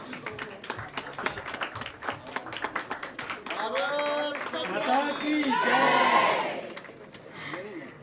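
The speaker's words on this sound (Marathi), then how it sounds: "छोट्यांच्या जोरदार टाळ्या वाजवूया आपण." Children's Bharatanatyam performance at a patriotic literature convention draws audience applause: an announcer's voice comes first, then crowd clapping and cheering swell together, close and moderately loud, before easing off at the end.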